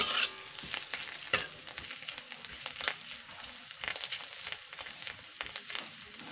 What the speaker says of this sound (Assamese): তিতা কেৰেলা ভাজিটো লাৰি দি আছোঁ